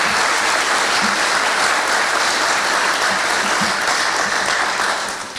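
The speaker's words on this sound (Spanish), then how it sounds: "Le tributamos un fuerte aplauso." Audience applause at a book presentation: steady, dense clapping that fills the room at an even level for about five seconds, then fades slightly at the end, with no talking over it.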